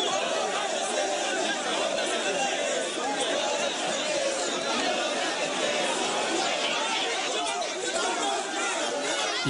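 Loud, dense clamor of a crowd of young Ivorians pressing against soldiers and gendarmes, a continuous roar of shouting voices close by and unbroken throughout.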